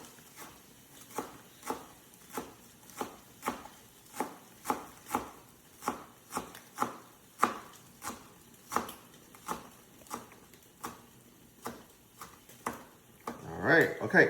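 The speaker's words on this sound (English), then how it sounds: "We're gonna cut green onions into very fine slices." A knife slices green onions very thinly on a cutting board for ramen, with crisp, evenly spaced chops at a steady rhythm, close and clear. Some louder handling noise comes at the very end.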